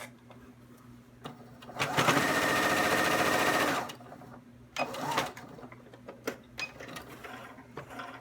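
Sewing machine stitching the opening of a t-shirt extender, a quiet rapid mechanical whirring burst lasting about two seconds, then scattered soft clicks and handling sounds.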